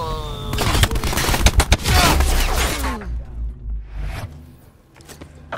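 Gunfire from the video game Call of Duty: a dense burst of loud shots and bangs over game audio for about three seconds, then fading into quieter ambient sounds with a few scattered later hits.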